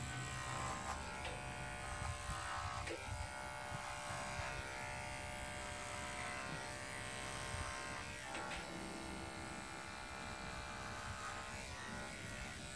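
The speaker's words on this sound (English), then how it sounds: "Now they're real shaving." Electric clippers shave a dairy cow's udder, giving a steady, close buzzing drone that runs on with no talking.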